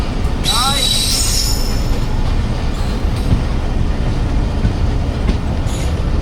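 The 40 Down Jaffar Express passing on a loop line toward Multan, a loud continuous rumble of wheels on track with brief high squeals and a horn-like tone early on.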